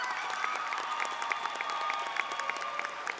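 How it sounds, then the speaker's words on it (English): A ceremony crowd at a Maryland service-year launch event applauds for the governor, a soft, distant patter of many hands, fairly faint over a steady hum in the room. "Give him a round of applause, of course."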